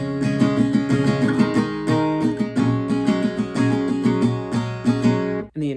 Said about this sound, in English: So all of line 2 of this pre-chorus would sound like this.